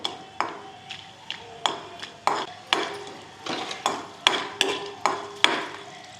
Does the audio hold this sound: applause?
no